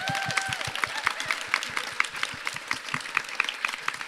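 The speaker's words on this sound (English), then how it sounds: "Can we give them a round of applause for all the advice?" An audience applauds a climate activism panel at the Eden Project, with dense, steady clapping from many hands filling the whole stretch and sharp individual claps standing out near the microphone.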